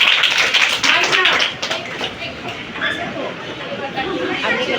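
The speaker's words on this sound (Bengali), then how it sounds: "একটা হাততালি হয়ে যায়" A crowd at a school result ceremony claps for students, dense overlapping applause near and loud that thins after a moment, with voices chattering underneath.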